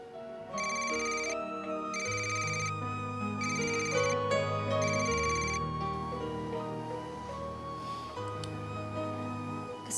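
A phone ringtone rings repeatedly in steady bursts and goes unanswered, sounding alone and fairly loud over a low, sustained background with no talking.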